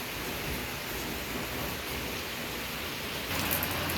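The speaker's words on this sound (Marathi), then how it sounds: "हे बघा पाऊस सुरू आहे, छान वाटून राहिलं मस्त." Afternoon rain falls in front of a house, a steady, even hiss of drops that holds throughout and swells slightly louder near the end, with no voices.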